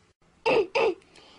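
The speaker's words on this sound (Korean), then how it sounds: "감기 걸린 것 같아. 기침 나와." Two quick coughs from someone with a cold and an irritated throat, close and fairly loud, separated by a short pause, then quiet.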